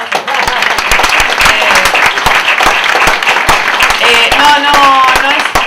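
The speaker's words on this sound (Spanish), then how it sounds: "No es un aplauso para mí" A hall audience claps loudly and continuously for the dean of the Faculty of Philosophy and Letters, the sharp individual claps distinct within the steady applause, with a voice rising briefly near the end.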